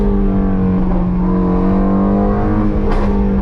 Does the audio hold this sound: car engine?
yes